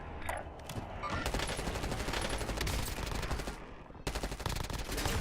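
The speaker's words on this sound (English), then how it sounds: "That your airstrike running." An airstrike in the Call of Duty Warzone video game lands as a sustained barrage of heavy, crackling blasts and rapid fire, loud and continuous with a brief lull before another surge.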